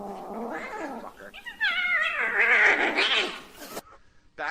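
A cat yowls in a long, wavering caterwaul that rises and strains, loud and close, breaking off abruptly before a short final cry.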